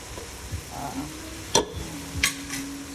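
Chopped onions, about one and a half, hit a pan for a ground beef spaghetti sauce and are stirred, giving a few sharp scraping strokes over a faint, steady sizzle, with no talking.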